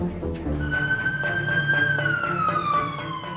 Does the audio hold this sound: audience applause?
no